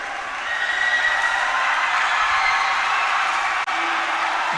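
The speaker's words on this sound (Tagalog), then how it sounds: "You see here the crowd cheering or jeering." Basketball crowd at a junior league game roaring in a sustained, steady wash of cheers and jeers that fills the arena, loud and unbroken for several seconds with no clear individual voices.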